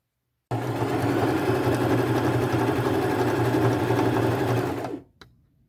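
A sewing machine runs a zigzag seam on a white patch on thrifted pants, a continuous fast mechanical whir for about four seconds that winds down and stops, with a small click after.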